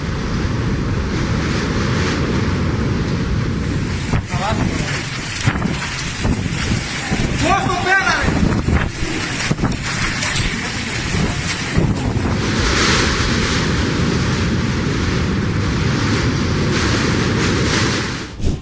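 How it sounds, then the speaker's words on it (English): Huge ocean waves crash along a coast in hurricane-force wind, a continuous loud roar of surf with heavy wind buffeting the microphone throughout and no pause. "The video shows shots of huge waves and a strong hurricane wind."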